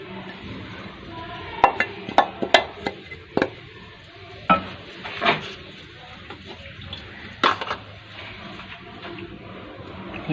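Potatoes and fenugreek leaves being stirred in a cooking pot, with a scattering of sharp clinks and scrapes of a spoon against the metal over a soft, low background, close by.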